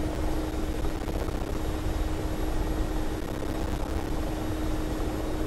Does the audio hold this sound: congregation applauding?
no